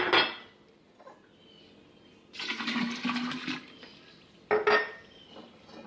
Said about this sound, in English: basically you just take it and start filling it up with water